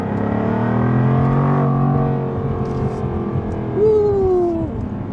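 2022 Jaguar F-Type P450 AWD, 444 hp, with a loud engine rev that climbs and then falls away, followed by a second sharp blip and a descending tone, heard close with no talking.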